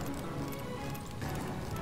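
Horse hooves galloping in the Western shooter game Call of Juarez: Bound in Blood, a fast, steady clatter under dense, faint in-game noise.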